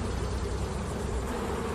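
Low, steady droning buzz of honey bees crawling on a brood frame with young and old bees and open larvae, close and continuous without pause.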